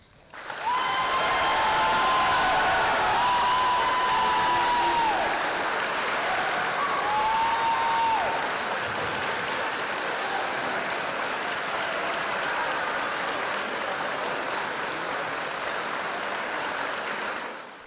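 A school gymnasium audience bursts into sustained applause and cheering at a surprise assembly honoring a teacher, loud dense clapping with whistles and shouts that holds steady for many seconds before cutting off.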